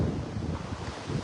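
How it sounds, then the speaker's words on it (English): Sea water laps against the edge of a marina on the Isle of Wight, a soft continuous wash muffled by gusting wind buffeting the microphone, fairly quiet and close. "you can see the water lapping in."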